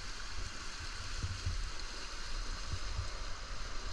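A mountain creek runs steadily beneath fallen logs, a soft, even rush of water with a few faint low knocks and splashes, fairly quiet and unbroken.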